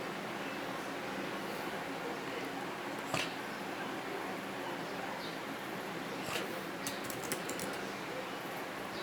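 Typing on the keyboard of a leather book-cover case for a Samsung Galaxy Tab E: soft, scattered key taps with a few sharper clicks over a faint room hum.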